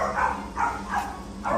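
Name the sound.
black puppy whimpering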